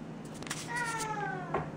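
A cat meows once with a drawn-out, wavering call that starts mid-clip and fades, close by over a steady background hum, with no talking.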